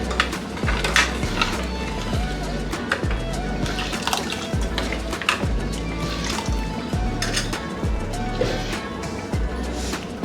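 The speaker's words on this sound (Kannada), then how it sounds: "ಇದಕ್ಕೆ ಇನ್ನೂ ಸ್ವಲ್ಪ ನೀರು ಹಾಕ್ಕೊತಾ ಇದ್ದೀನಿ." Water is poured into a buttermilk and cucumber tambuli in a kitchen vessel, giving a steady liquid trickle and slosh with repeated light clinks of utensils over about ten seconds.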